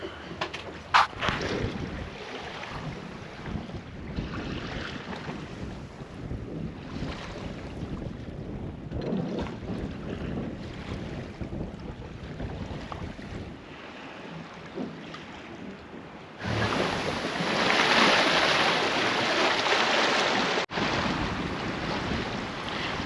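Wind buffeting the microphone over the wash of waves against a sailboat under sail without its motor, growing louder and rougher toward the end.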